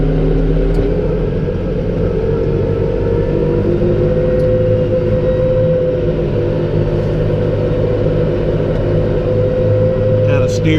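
A tractor engine drones loud and steady in 540E PTO mode while mowing hay in a flat field, a continuous close rumble with no pauses.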